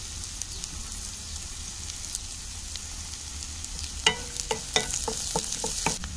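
Onions and curry leaves frying in sesame oil, giving a steady soft sizzle that is joined near the end by a quick run of sharp taps and scrapes as the pan is stirred.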